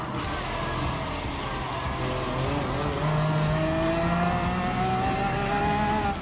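A Lamborghini Aventador supercar accelerates in Gran Turismo Sport, its engine note rising steadily in pitch as it climbs through the gears of a 7-speed transmission, loud and continuous with faint tire noise beneath.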